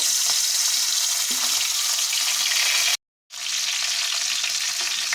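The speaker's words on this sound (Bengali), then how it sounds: "এবার মাছগুলো ভেজে নেব তার জন্য এখানে অল্প কিছুটা সর্ষের তেল গরম করে নিয়েছি" Fish heads fry in hot mustard oil with a loud, dense, continuous sizzle close by, broken by a brief cut to silence before the crackling resumes.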